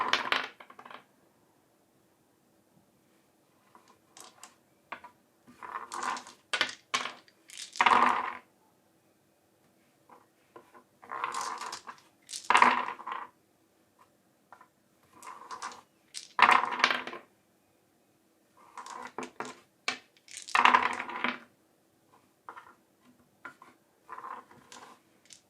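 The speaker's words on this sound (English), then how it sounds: "Let's see how many throws before I get a 10-dice Yahtzee." Ten dice are thrown again and again onto a hard surface, each throw a sharp rattling clatter followed by a pause, about six separate throws, close and clear with no talk.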